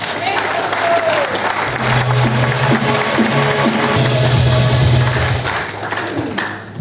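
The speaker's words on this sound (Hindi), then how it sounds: "जोरदार ताली बजाओ एक बार" A live audience applauds loudly at a business training seminar, steady sustained clapping filling the room for several seconds before tapering off at the end.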